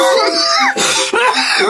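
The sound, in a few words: cough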